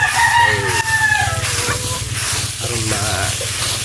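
Backyard chickens cluck steadily and loudly up close while a rooster lets out a crow, the calls overlapping over a low, pulsing background hum.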